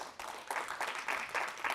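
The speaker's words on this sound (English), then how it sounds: "let's give a round of applause for our two presenters for today" A conference audience applauds two presenters with steady, moderately faint clapping in pulsing waves that continue without speech.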